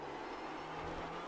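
Clio Cup race car in iRacing at Laguna Seca with the engine held at full throttle, a steady, loud, even drone that barely changes across a short stretch.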